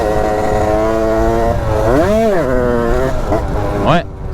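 A Derbi 70 motorcycle accelerates hard in third gear as the front wheel lifts. The engine drones loud and close, its pitch rising, dipping and climbing again before cutting off abruptly.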